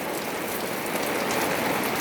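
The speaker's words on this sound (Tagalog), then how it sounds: "Ayan, ang lakas na ng ulan." Heavy rain pours down steadily, a loud dense hiss of drops drumming on surfaces close by, continuous and unbroken with no voices.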